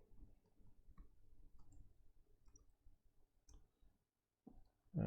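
Someone types on a computer keyboard while lying on a bed, making quiet, uneven clicking keystrokes at close range. A short pause comes near the end, then a louder knock.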